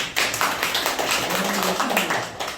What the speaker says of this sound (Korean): 동감하시면 박수 한번 쳐보세요.